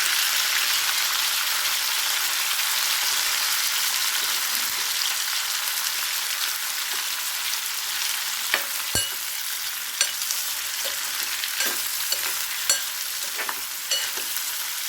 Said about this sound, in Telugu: చూడండి లైట్గా వేగినవి చిటచిట అంటున్నాయి వీటిలోకి మనం వీటిలోకి మనం కట్ చేసి పెట్టుకున్న ఆనియన్స్ వేస్తున్నాం